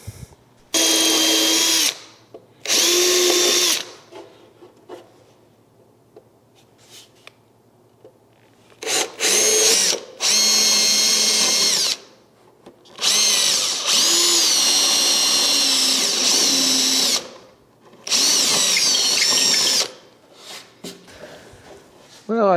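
A power drill drives screws into a wooden altar and pulpit during assembly, whirring loudly in about half a dozen separate bursts of one to two seconds, with quiet pauses between.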